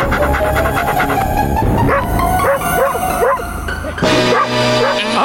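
Cartoon dog Disco barks from inside a vehicle, a run of high yips and bow-wows repeating at a quick pace over a busy animated music bed, fairly close and loud.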